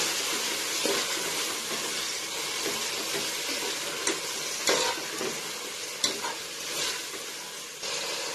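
Chopped ripe tomatoes sauté in a pan for mutton biryani with a constant close sizzle. Soft scrapes and clicks of stirring come through at intervals.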